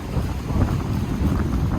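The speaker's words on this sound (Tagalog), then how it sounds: "grabe lakas ng alon ngayon oh natalsik yung tubig" Strong, steady roar of wind and crashing surf at the sea in Taiwan, a dense low rumble that stays loud throughout with no voices.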